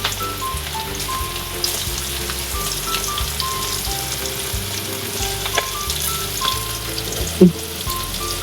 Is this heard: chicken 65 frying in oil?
yes